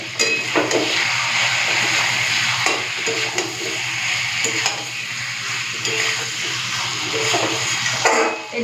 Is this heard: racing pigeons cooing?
no